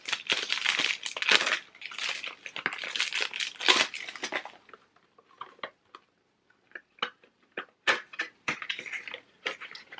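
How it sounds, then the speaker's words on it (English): A small round package of Cambodian oud attar is unwrapped up close: dense crinkling and crushing of wrapping for several seconds, thinning to scattered crisp ticks and rustles. "let me unwrap this for you so that you get to see what it looks like."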